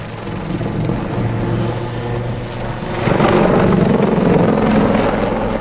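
A helicopter roars steadily nearby while performing a backflip maneuver, its rotor and engine noise loud and continuous, growing stronger partway through as it maneuvers.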